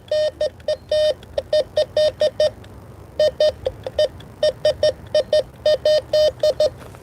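A Bounty Hunter Tracker IV metal detector gives its high-tone signal, a rapid string of short, sharp beeps in irregular bursts with a brief pause midway, close and clear over faint background noise.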